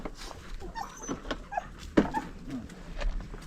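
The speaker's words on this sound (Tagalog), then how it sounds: "Ito yung mga aso ko guys, Mami Lydia, this is my doggies" A dog whimpers softly in a few faint, short whines and yips, close but quiet, amid light background rustle.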